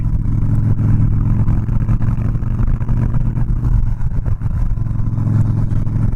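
A Harley-Davidson Softail Slim with a 103ci engine being ridden: a deep, loud, steady engine rumble with a throbbing low pulse, holding an even cruising tone throughout and heard alone without talking.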